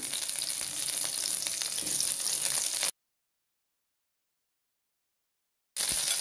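Eggplants and tomatoes sizzle steadily in a frying pan, a dense close crackle that drops to silence for a few seconds midway before the frying resumes.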